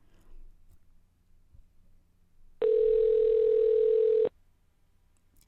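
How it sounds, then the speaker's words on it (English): A single steady telephone ringing tone while a call is placed, loud and close, lasting about two seconds in a quiet room with faint background noise. "Answer the phone, Bob."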